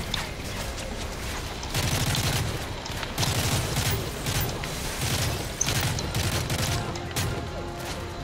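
Sustained gunfire from shooting in Call of Duty MW3, rapid bursts crackling in repeated volleys with a heavy low thump, loud and continuous throughout with no talking.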